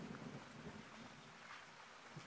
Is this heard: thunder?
yes